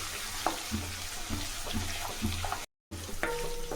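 Grated ginger sautés in oil on a low flame for rava idli, a soft and steady sizzle with small crackles and light stirring taps, cut by a very brief dropout near the end.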